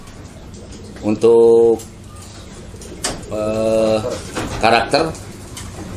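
A young pigeon coos in a few short, tonal bursts, close and fairly loud, while someone speaks briefly between the calls.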